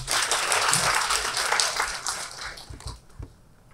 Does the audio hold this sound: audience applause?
yes